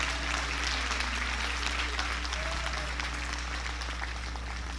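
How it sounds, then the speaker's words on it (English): Congregation clapping hands during a 1985 Sunday evening church service, a soft, steady wash of clapping heard at a distance over a constant low hum, with no clear talk. "Come on and clap your hands."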